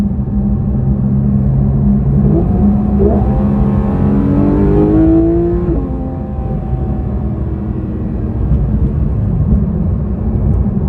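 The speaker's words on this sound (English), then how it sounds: "let's go up to 9. Nearly 9. I don't want to go all the way up to 9. The noise is absolutely fabulous." A Porsche 911 GT3 RS engine revving hard toward nearly 9,000 rpm, a loud rising howl that climbs over several seconds, peaks and drops back, heard from inside the car without talk.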